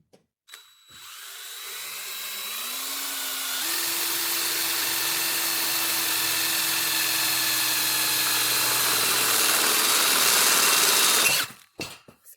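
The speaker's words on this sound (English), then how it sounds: "we're going to drill our hole for the latch" A power drill bores a latch hole in a homemade gate, starting with a brief low whir, then ramping into a loud, sustained high-pitched grinding whine that holds for about eight seconds before stopping abruptly.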